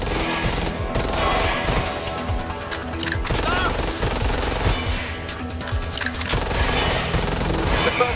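Rapid automatic gunfire in the Watch Dogs Legion video game during a boss fight, dense loud bursts of shots running continuously throughout amid game sound effects.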